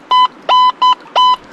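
Four loud electronic beeps in quick succession from a metal detector speaker, clear steady tones with brief gaps, close to the listener, while gold detecting at a river.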